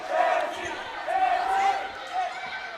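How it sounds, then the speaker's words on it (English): Crowd chanting and cheering for Mexico at a women's foam dodgeball world championship match, rising voiced shouts in bursts, with a commentator talking over it. "And there's that cheering starting up for Mexico."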